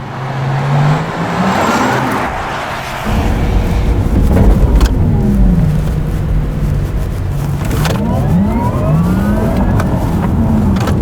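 A Porsche Taycan electric car accelerates hard through a city, its motor whine sweeping up in pitch several times over a loud, steady rush of road and wind noise.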